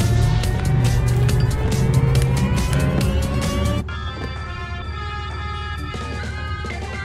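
Extraction vehicle in the Deceive Inc. video game driving, a loud continuous engine drone with rising tonal whine and rapid clatter that drops abruptly to a quieter steady hum partway through.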